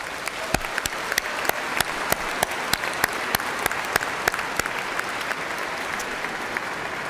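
A commencement audience for the College of Business & Technology gives a big round of applause to the year's Distinguished Senior, steady dense clapping with sharp individual claps standing out, sustained and fairly loud for several seconds.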